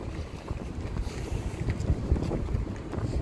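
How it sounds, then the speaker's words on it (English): Wind gusting on the Las Vegas Strip, a low roaring rumble buffeting the microphone in uneven surges, steady and fairly loud with no speech. "it just started getting windy as we get on the strip"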